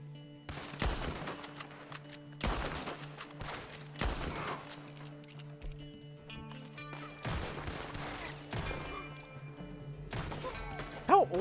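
Video game gunfire rattles out in several separate bursts of rapid shots, each volley lasting under a second and separated by quieter gaps, fairly loud over a steady low background hum.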